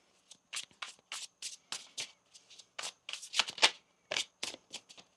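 Tarot cards are shuffled by hand in a steady series of crisp, riffling bursts close by, with no talking.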